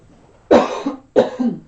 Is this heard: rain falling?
no